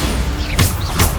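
Hogwarts Legacy Bombarda explosion spell in combat: two quick loud bursts, less than half a second apart, over a dense rumble of game sound.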